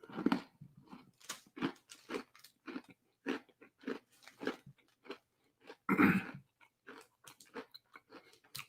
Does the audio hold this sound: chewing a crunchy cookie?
yes